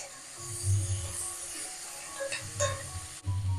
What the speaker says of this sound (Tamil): நம்ம மஞ்சப்பொடி, தக்காளி நல்லா வதங்கட்டும்.